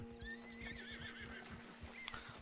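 A horse in Red Dead Redemption 2 gallops with steady, rapid hoofbeats while whinnying over the top, a continuous rhythmic thudding with rising neighs.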